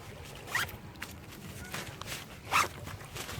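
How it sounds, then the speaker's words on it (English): A YKK zipper on a Highlander Stoirm 40L backpack is pulled open in two quick, close rasps against faint background rustle. "Dayglow zippers."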